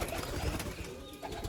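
Pigeons let out of a loft coo softly, with faint wing movement and ambient rustle close by.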